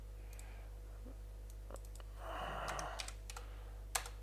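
Computer keyboard typing in short bursts of light clicks, quiet and close, with a quicker flurry of keystrokes midway and one sharper key tap near the end over a low electrical hum.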